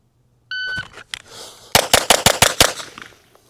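A shot timer beeps, then a pistol fires six sharp, close shots in quick succession at shooting practice, with a couple of faint handling clicks before the string.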